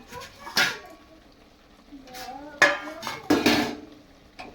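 Cooked pointed gourd (potol) dish being tipped from the pan into a serving bowl, a few sharp metallic clanks and scrapes of spoon and cookware close by, with a voice talking between them.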